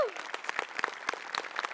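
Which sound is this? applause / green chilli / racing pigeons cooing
applause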